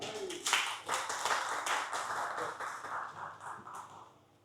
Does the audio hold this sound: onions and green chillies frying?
no